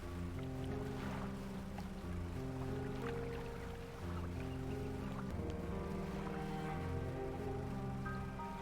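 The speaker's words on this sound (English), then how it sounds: "give me that bloody engine" Boat engine from the fishing game Dredge, a steady low droning hum with layered tonal harmonics running continuously and fairly quiet, with no talking.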